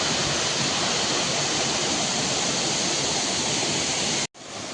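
A waterfall in Meghalaya roars as a loud, dense, unbroken rush of falling water close by, filling the whole stretch with steady white-noise spray before a brief cut near the end.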